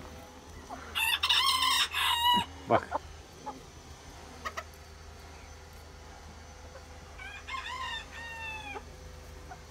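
An Ottoman Sultan breed rooster crows loudly twice, close by in a backyard coop, with hens clucking softly in between and someone talking over the birds.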